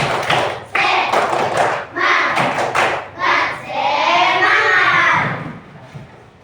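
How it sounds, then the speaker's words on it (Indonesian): Children in a classroom clapping together in rhythmic bursts of sharp claps, followed by children's voices chanting loudly, fairly close. "Tepuk sekali. Tepuk semangat."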